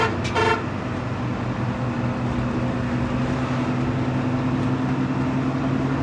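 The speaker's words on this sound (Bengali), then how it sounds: "টঙ্গীপাড়া এক্সপ্রেসের আমার সবথেকে ভালো একটি জিনিস লাগে, সেটা হচ্ছে তাদের ক্রস হর্ন" Tungipara Express train sounding its crossing horn, a short loud blast at the start followed by a steady rumbling run of the moving train.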